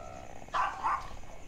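A dog barks twice in a video game, two short, fairly close woofs in quick succession over a low steady background hum.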